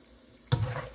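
Steak for country fried steak dropped into hot grease in a pan, a sudden loud sizzle that bursts out halfway through and keeps crackling close up.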